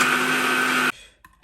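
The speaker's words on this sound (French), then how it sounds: "On passe au mixeur et je vous montre le résultat." Kitchen blender mixing food, a loud steady motor whir that cuts off abruptly near the end, followed by a couple of faint small clunks.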